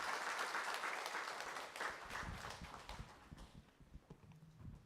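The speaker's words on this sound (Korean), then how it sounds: "박수로 격려해 주시기 바랍니다" A church congregation at Gwangju Yangnim Church claps for graduates of a workplace vision school receiving certificates. The applause starts full and fairly soft, then thins after a couple of seconds into scattered, fading individual claps.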